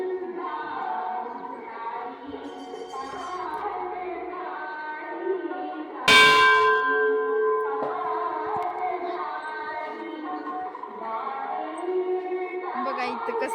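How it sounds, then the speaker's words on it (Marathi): A large temple bell at a family-deity shrine, crowded during a yatra festival, is struck once midway and rings on with a bright, sustained metallic tone that slowly fades over steady crowd murmur and nearby voices. "हे बघा घंटा कसला मोठा वाहिलाय"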